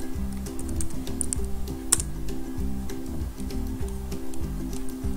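Keys tapped on a computer keyboard while entering a search word, a quick run of soft clicks over a steady, patterned hum of background music, close and moderately loud.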